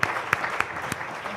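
An audience claps at a corporate quiz grand finale, a brief steady patter of applause with a few sharper individual claps standing out.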